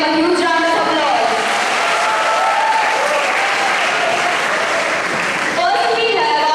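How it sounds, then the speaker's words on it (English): A school debate audience breaks into loud, dense applause with cheering, heard close and sustained throughout, with voices calling out over the clapping at the start and end. "let's give them a huge round of applause"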